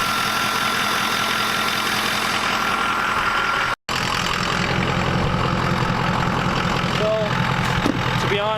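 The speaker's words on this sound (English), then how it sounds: "the one thing that I am hearing is that my turbo is spooling up and spooling down" A Ford Powerstroke 6.0 diesel idles close by with a steady loud clatter and drone, a brief cutout midway, then a rising and falling turbo whine near the end, with someone talking over it.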